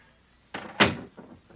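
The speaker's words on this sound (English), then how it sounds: "Please close the door behind us." A door shuts in a Sherlock Holmes radio drama starring Rathbone and Bruce, set at a monastery cell: a latch click followed by a firmer wooden thud and a softer rattle, close and clear with no voices.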